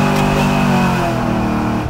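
A GMC truck fitted with a swapped LS1 5.7 litre V8 revs loudly and close, a dense steady engine roar holding high for about two seconds.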